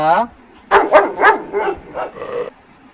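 A dog barks about six times in quick, uneven succession, loud and close, after a brief tone at the start.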